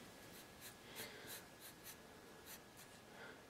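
A charcoal pencil shades on paper in soft, faint scratchy strokes that come in short repeated bursts, used with a sharp point the way an ordinary pencil would be.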